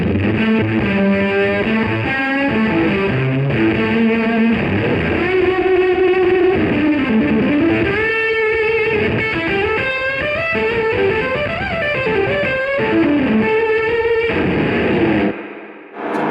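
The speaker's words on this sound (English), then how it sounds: "here's the fuzz into the revival drive" An electric guitar runs through a fuzz pedal into an Origin Effects Revival Drive overdrive, producing a loud, saturated, distorted tone with sustained chords and note bends, played close for about fifteen seconds before cutting off abruptly.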